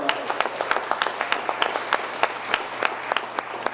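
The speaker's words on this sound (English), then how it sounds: "Let's give everyone a round of applause" Audience applause at an awards gala ceremony, a steady wash of many hands clapping with sharper individual claps standing out, sustained and fairly close throughout.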